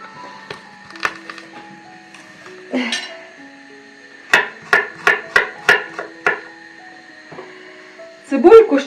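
A freshly sharpened knife chops food on a board in a series of sharp, evenly spaced knocks, about seven quick strikes close by, with voices talking before and after.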